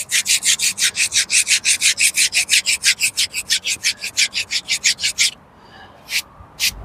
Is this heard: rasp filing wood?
yes